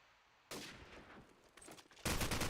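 Desert Eagle pistol fire in Call of Duty 4: a sharp gunshot cracks in, followed by a cluster of further rapid shots, and then a louder, dense burst near the end. The shots come in a quick, irregular sequence.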